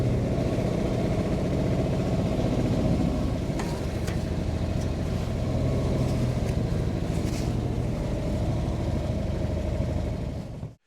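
A 1952 Chevy Styleline Deluxe engine runs steadily in a garage, a loud continuous low rumble at idle throughout, with a couple of faint clicks partway through before it cuts off at the end.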